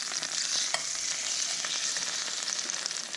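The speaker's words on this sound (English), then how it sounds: "we're going to flip this steak" A Delmonico steak sears in a hot pan with a steady, close sizzle, plus faint scraping stir sounds throughout; no one speaks.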